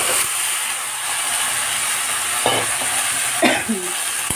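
Chopped mixed vegetables hiss and sizzle in a hot pan, a steady close frying sound broken by a few clattering spatula strokes as they are stirred.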